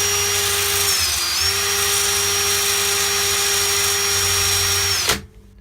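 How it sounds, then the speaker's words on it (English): A power drill whines steadily for about five seconds boring a wooden arrow shaft, with a brief dip in speed near the start, then cuts off abruptly, leaving near silence. "literally then holding this drill"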